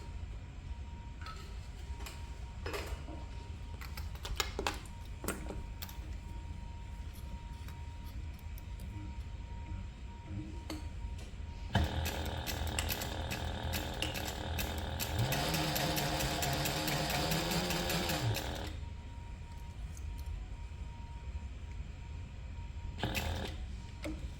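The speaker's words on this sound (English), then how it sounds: "we're going to sew this together using a 3/8 inch seam allowance" A sewing machine runs a continuous burst stitching a 3/8 inch seam on a crossbody and waist bag, steady and fairly loud for several seconds amid quieter handling clicks before and after.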